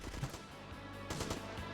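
Rapid bursts of gunfire from GTA Vice City Stories on the PS2, a few sharp shots clustered early and again near the end, set against constant in-game background noise.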